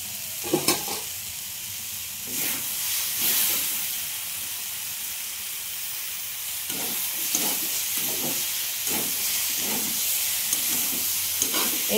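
Paneer pieces fry with vegetables in a home kitchen pan, giving a steady sizzle broken by repeated scraping stirs and soft clatter, fairly close and free of speech.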